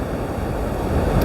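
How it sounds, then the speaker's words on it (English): Waves breaking on rocks along the Pembrokeshire coast at low tide, a steady loud rushing surf wash mixed with wind buffeting the microphone, with no voices. "the waves are breaking on them instead"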